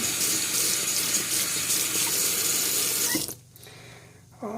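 Water from a tap runs into a drain fitted with a rubber strainer, a steady close splashing rush that stops abruptly near the end, followed by a quieter trickle and gurgle.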